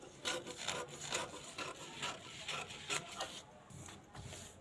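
Scissors cut through fabric for a katori blouse in quick repeated snipping and scraping strokes, faint and close, with an even rhythm and no voices.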